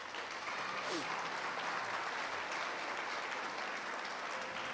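A church congregation applauding together, a steady dense wash of clapping filling the room at even loudness throughout, with faint voices mixed in underneath.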